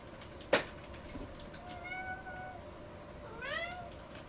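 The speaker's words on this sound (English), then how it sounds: "I hear a kitty." A cat gives two clear meows, the second rising and sliding down, fairly close in a quiet outdoor setting, after a sharp click.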